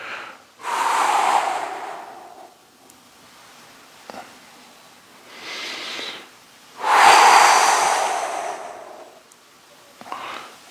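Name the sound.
exhaling during stretching exercise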